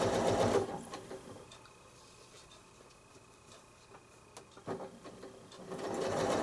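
A sewing machine stitches quilting lines across a modern square block, running at a fairly quiet level with a steady rapid patter. It slows or drops out in the middle and then picks up again toward the end.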